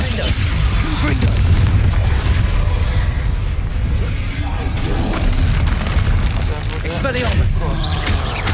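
Confringo fire-blast spells in Hogwarts Legacy detonate in loud, booming explosions, one after another, mixed with dense battle noise and spell effects as a voice speaks over the din.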